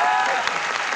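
Company staff audience clapping at a corporate recognition event, a dense, steady wash of applause throughout the short moment.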